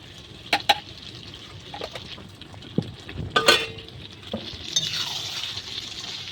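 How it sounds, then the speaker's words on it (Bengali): Spoon stirring potol chingri curry after garam masala is added, a few sharp scraping clinks against the pan at irregular intervals over a quiet sizzle, close and moderately loud. "ভালো ভালো করে মিশিয়ে নেব।"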